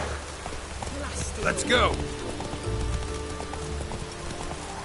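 In a video game, the horse Roach's hooves clip-clop at a steady pace beneath a soft rain-like hiss, while a voice briefly speaks over them.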